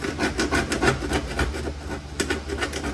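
Coarse 80-grit sandpaper rasps back and forth over rusty sheet metal on a Chevy Silverado/GMC Sierra HD truck body, a steady run of close, loud scratching strokes with no talk.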